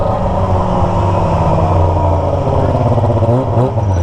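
A Kawasaki ZX25R with a Toce exhaust passes on the street, its high-revving inline-four wail rising and shifting in pitch as it goes by, loud and close throughout.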